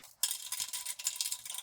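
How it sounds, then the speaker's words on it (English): A crescent wrench snugs compression fittings on a sink drain for an upside-down basin sink, a short run of light metallic clinks and rattles starting abruptly after a quiet moment, close and fairly faint. "There's one. The crescent wrench."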